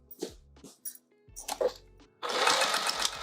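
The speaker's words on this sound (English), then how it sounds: "Go back and forth a few times on this because it will get a lot of wear. So I like to really sew it down." A sewing machine stitches a pouch handle seam in short stop-start bursts, then settles into a louder, continuous fast whir at the end. No one speaks.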